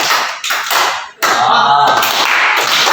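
Hands clapping in a counted classroom clapping exercise, a few sharp claps in uneven groups with brief pauses between them, close and fairly loud.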